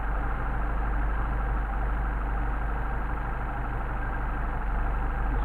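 A Mercedes 190SL engine idles on its Solex 44PHH carburetors while the idle mixture screws are being adjusted, giving a steady, low, continuous rumble close by with no talking.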